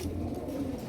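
Pigeons coo in a low, throaty hum at a pigeon seller's stock in Nitaiganj, Narayanganj: a brief, steady burst of overlapping coos, close and moderately loud.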